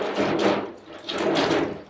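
Tap water runs steadily into a sink at a silk screen printing workspace, a continuous close hiss that swells and dips slightly, heard alone without talk.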